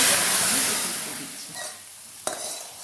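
Dry red chillies and five-spice fry in hot oil in a pan, a loud close sizzle and hiss that fades gradually, with a soft stir and one sharp clink near the end, no talking.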